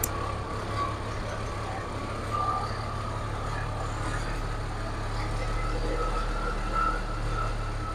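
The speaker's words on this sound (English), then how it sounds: "I'm going to pull this truck outside." An International 9670 truck engine hums steadily while a reversing beeper chirps repeatedly as the truck is driven outside.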